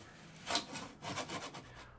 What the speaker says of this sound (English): using a heat gun and a putty knife to scrape off the epoxy.